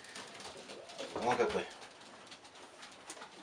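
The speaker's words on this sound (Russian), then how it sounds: "Вот у нас получился такой голубенок." A young spotted sport pigeon gives a brief, soft cooing burst near the middle, heard close up while someone talks quietly around it.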